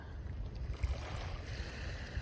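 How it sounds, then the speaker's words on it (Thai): Sea waves wash onto a beach in the Marshall Islands, a soft, steady surf rumble with wind and faint lapping, heard at a distance without voices. "ฟังเสียงคลื่นทะเลผ่อนคลายแล้วจ้ะเนาะ"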